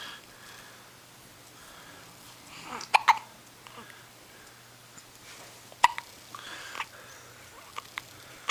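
A baby hiccups in a few short, sharp bursts spread apart by quiet stretches, close to the listener, with faint background noise and small sniffs between them.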